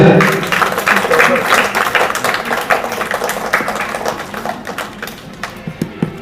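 School audience at a Teachers Day celebration bursting into loud applause, a dense roar of many hands that stays strong and gradually thins into scattered claps, with voices mixed in.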